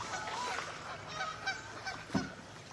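Canada geese honking at a bird-island nature reserve, several overlapping calls blending into a busy, moderately distant flock chorus with one louder close honk near the end.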